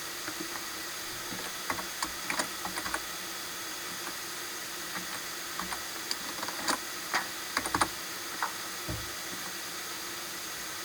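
Keys tapped on a computer keyboard while entering glider flight up and down times into flight-logging software, a scattered run of soft, close clicks in short bursts over a steady background hum.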